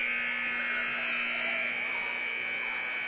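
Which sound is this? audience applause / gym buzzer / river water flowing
gym buzzer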